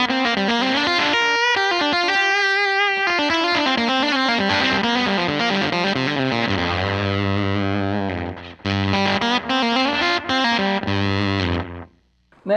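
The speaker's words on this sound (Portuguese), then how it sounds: "Um outro estágio de ganho pode ser acrescentado a esse som pelo fuzz" Electric guitar through a fuzz pedal alone, playing thick fuzzy chords and sustained notes, loud and saturated, with brief pauses near the end before fading.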